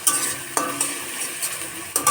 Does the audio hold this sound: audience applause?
no